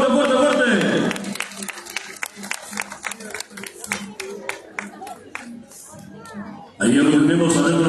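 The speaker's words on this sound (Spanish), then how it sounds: "Vengan sus aplausos, por favor." Crowd applause and scattered clapping at a marinera dance exhibition during a San Juan Bautista festival, loud and close, thinning to sparse claps before an announcer's amplified voice returns.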